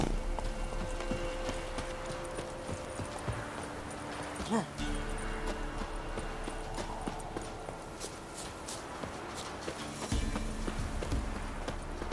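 Roach, a horse in a video game, clip-clops at a steady walking rhythm, hooves close and clear beneath an ongoing spoken voice and background music.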